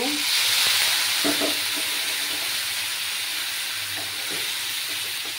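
Spiced tengra fish curry with potato and papaya sizzles steadily in a pan as it is sautéed, a continuous close hiss with faint stirring knocks underneath.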